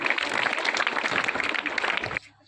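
Loud audience applause at a school talent competition in Chavadihal, dense steady clapping from a crowd that cuts off sharply near the end.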